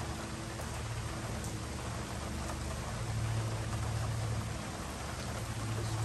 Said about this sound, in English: It's just always raining